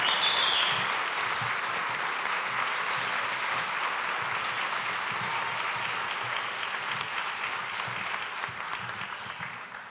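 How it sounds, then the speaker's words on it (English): Applause at a university awards ceremony honoring a recipient: a full, continuous roar of clapping from a large crowd, steady throughout and tapering slightly near the end, with a couple of faint whistles early on. "How about another round of applause for Faye Bowers?"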